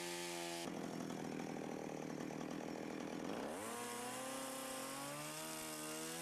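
A chainsaw bar cuts a groove into wood, the engine snarling loud and steady under load, then the pitch rising sharply as it revs up near the end, with no voices.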